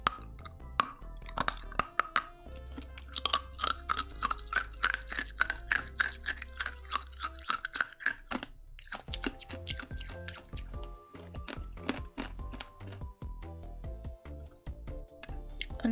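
Candy chewed right against the microphone in close ASMR style, a steady run of crisp crunches and wet clicks with no talking.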